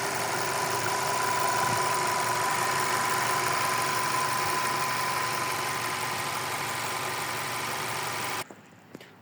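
A 2019 VW Passat 2.0 TSI 272 hp 4x4 engine idles steadily and smoothly at close range with no talking, then cuts off abruptly near the end.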